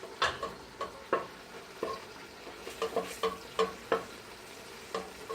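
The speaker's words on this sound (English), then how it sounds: "So again, you heat up the ghee" Ghee heating in a pan with a soft sizzle and repeated light stirring scrapes in an uneven rhythm, fairly quiet and close, with no talking.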